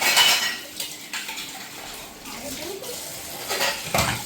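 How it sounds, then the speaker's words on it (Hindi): Dishes and cutlery are stacked and set aside at a home kitchen sink after a meal, giving several clinks and clatters of utensils and plates up close with faint background noise. "अब तो खाना खाया तो मैं तो इन बर्तनों को ऐसे रख दूँ"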